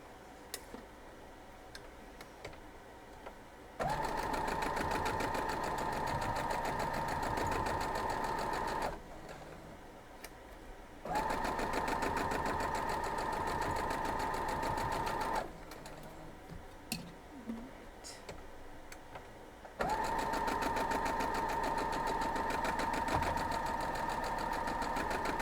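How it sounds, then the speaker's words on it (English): A sewing machine stitches quilt block pieces in three long, steady runs, each a loud continuous whir with a rapid mechanical ticking, separated by short quiet pauses of handling. "And then we're going to sew this piece too."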